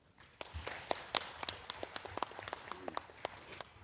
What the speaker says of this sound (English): Let's give ourselves a warm round of applause.